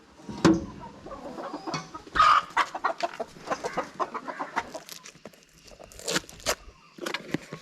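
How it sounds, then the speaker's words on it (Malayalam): Chickens let loose in a yard cluck and squawk near and far, with a few loud calls and a scatter of softer clucks and rustling. "കോഴികളെല്ലാവരെയും അപ്പൻ അഴിച്ചു വിട്ടേക്കാണ്."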